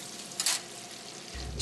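French fries fry in hot oil at a county fair food stand, giving a steady close hiss of sizzling with a brief louder bubbling burst and low machinery rumble beneath.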